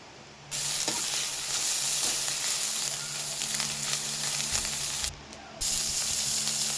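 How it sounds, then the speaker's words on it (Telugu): Coriander and mint leaves frying in a pan for beetroot chutney, a loud continuous close sizzle that cuts out briefly near the start and again near the end, with a few faint stirring knocks and no speech. "అందులోకి కొద్దిగా కొత్తిమీర, పుదీనా వేసి వేయించుకోవాలి."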